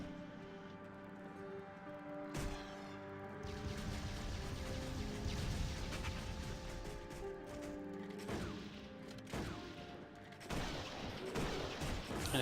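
Shotgun blasts from Torchlight 2 game combat, repeated sharp bangs at irregular intervals amid a thick layer of game music and effects.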